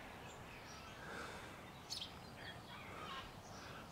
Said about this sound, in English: the best part is hearing all the birds